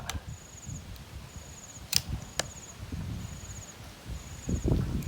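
A CZ 457 .22 LR rifle fires outdoors in windy conditions, giving a crisp crack followed by a second, fainter sharp click, over a rustling breeze and pulsing insect chirps.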